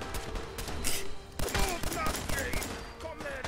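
A shotgun fires in Fallout 4 amid loud, dense combat, with overlapping blasts and impacts coming in quick succession and sounding close.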